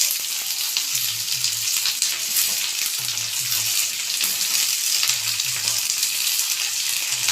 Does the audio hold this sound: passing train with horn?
no